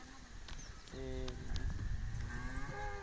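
A Khillar bull lows in a farmyard, a drawn-out deep moo lasting a couple of seconds at moderate distance, with a voice talking in the background.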